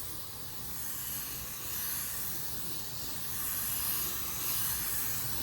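A PRD-815 spray gun laying down a second coat with fan and fluid wide open, giving a steady broadband hiss that swells and eases slightly across several passes. No talking.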